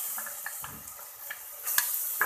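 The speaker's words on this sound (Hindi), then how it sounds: "1 से 2 मिनट के लिए हम इनको फ्राई करेंगे, तो ये लाइट ब्राउन हो जाएंगे।" Onions frying in a pan for a light-browning step in a mutton kofta gravy, a steady close sizzle with a few soft stirring scrapes and small crackling pops, no talking.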